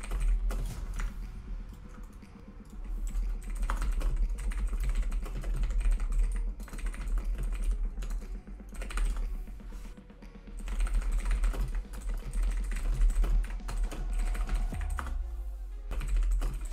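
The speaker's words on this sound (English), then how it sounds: "Bro, who is this guy typing to?" Rapid, frantic typing on a computer keyboard runs nonstop under steady game background noise, the clatter close and dense throughout.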